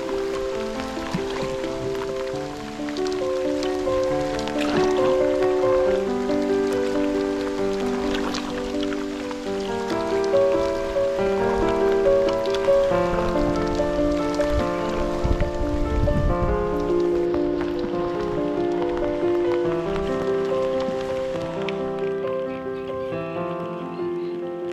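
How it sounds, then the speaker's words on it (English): Steady rain patters and hisses across the Waveney River, a continuous wash of drops under soft layered music. "As the rain clattered down, we decided, rather than fight it, we would embrace it."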